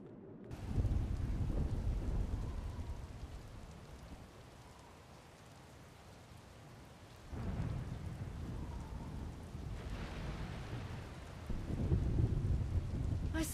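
Heavy storm rain pours steadily with deep thunder rumbling in surges, swelling loud around the middle and again near the end, with no voices.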